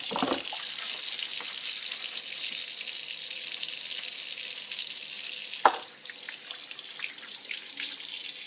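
Tap water runs steadily into a sink as the container of an Omega VRT350 juicer is rinsed, a constant close hiss with a brief splash midway where the flow shifts.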